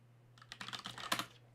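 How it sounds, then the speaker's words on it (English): Keys on a computer keyboard tapped in a quick, uneven burst of about a dozen close clicks while a password is typed into a Proxmox 7.3 server over SSH, over a steady low hum. "and I type my password on."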